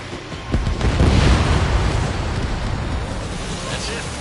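A missile launches and explodes, downing an enemy bomber in Ace Combat 7: Skies Unknown, with a loud deep boom that swells and then rolls off into a long rumbling wash.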